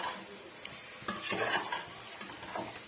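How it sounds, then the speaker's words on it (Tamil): Masala being stirred into a guinea fowl curry in a pot, with scraping and clinking of a spoon against the pot in several short bursts over a soft sizzle. "இந்த மசாலாவும் இந்த கறியோட ஒட்டி வர மாதிரி நல்லா வந்து மிக்ஸ் பண்ணி விட்டுக்குங்க இடையிடையே கிளறி கொடுத்துக்குங்க"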